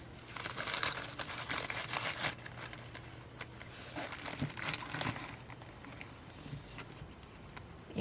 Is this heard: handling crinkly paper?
yes